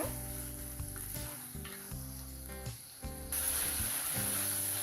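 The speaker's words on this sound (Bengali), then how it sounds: "চিংড়ি মাছটা দিয়ে আমি এখন ভালো করে নেড়ে নিচ্ছি হালকা চিংড়ি মাছটা আমি ভেজে নেব" Shrimp frying in a pan while being stirred for a shrimp curry, a steady close sizzle with a low tonal hum beneath that brightens and grows louder in the final second or so, without talk.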